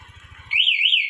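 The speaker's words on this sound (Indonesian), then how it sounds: "kita klik satu kali otomatis motor ini langsung berbunyi" A motorcycle anti-theft alarm is triggered remotely. A low pulsing buzz gives way to a loud, close, warbling electronic siren that sweeps steadily up and down.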